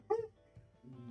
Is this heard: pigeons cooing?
no